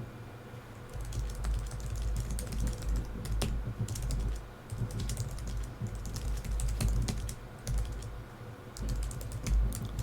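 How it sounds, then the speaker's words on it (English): Typing on a computer keyboard at a Windows PC: close, rapid clicking keystrokes in uneven bursts with short pauses, plus a few louder key taps, steady for about ten seconds with no talking. "I'm typing text"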